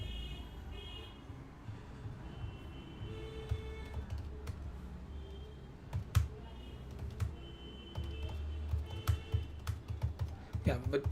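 Computer keyboard typing during a live streaming setup test, soft irregular key clicks under a steady low hum and room noise, with brief louder taps.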